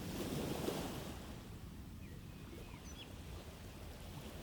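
A soft, continuous wash of ocean surf with a low rumbling swell and faint wind, steady and distant, with a few tiny high chirps.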